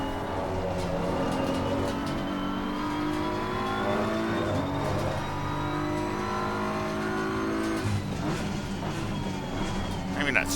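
BMW M4 GT3 race car engine revving hard in Assetto Corsa at Silverstone, loud and continuous with rising and falling harmonic sweeps through gear changes, a sharp shift near the eight-second mark, with a voice talking over it.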